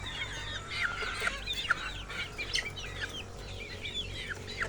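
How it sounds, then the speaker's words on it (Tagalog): Chickens and young chicks cluck and peep busily while feeding on a game farm, many bright chirps overlapping at close range over a steady low background hum. "Nakakatuwa kapag ganitong masisiglang kumain ang mga alagang sisiw"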